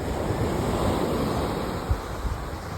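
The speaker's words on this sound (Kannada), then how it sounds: "ಅಲೆಗಳು ಎಷ್ಟು ಜೋರಾಗಿ ಹೊಡಿತಿದೆ ನೋಡಿ" Ocean waves crash and wash on Mangalore beach in a loud, continuous surging roar, with heavy wind buffeting the microphone and a couple of stronger thumps near the end; no speech.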